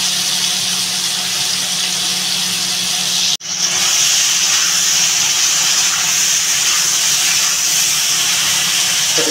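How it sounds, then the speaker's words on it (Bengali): Tilapia fish and potato curry sizzles steadily as it is sautéed in a pan, a loud continuous hiss broken by one brief sharp click before the sizzle resumes. "তারপরে এটা কষাবো।"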